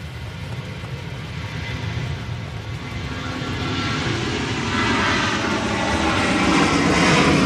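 A Ryanair airliner bound for Agadir takes off in strong crosswinds at Manchester Airport during Storm Kathleen, its jet engines a steady broadband roar that swells louder over several seconds amid wind noise, with no talking.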